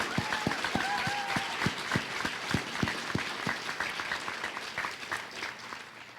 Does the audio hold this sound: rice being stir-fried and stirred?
no